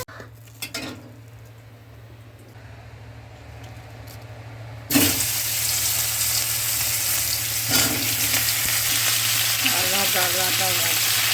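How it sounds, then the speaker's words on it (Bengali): Cauliflower frying in a pan at home, a soft start that jumps at about five seconds into a loud, steady close sizzle, with a few clinks of a spatula against the pan. "কপিটাকে ভেজে নিলাম ভালো করে।"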